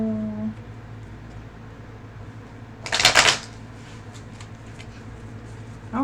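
Tarot cards give one short, crisp shuffle burst in the middle of a quiet room with a low steady hum, with no voices.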